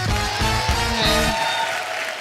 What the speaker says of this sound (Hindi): एक बार भुज की कास्ट के लिए जोरदार ताली हो जाए।